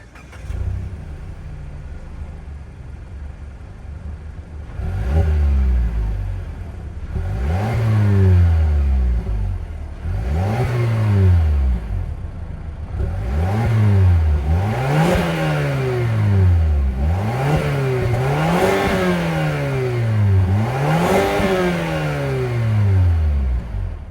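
A 2024 Mazda CX-5 Turbo Premium's 2.5-liter turbocharged four-cylinder, fitted with dual exhaust tips, starts up and is then blipped through about seven sharp revs, each climbing and falling back to idle, close and loud with no talking.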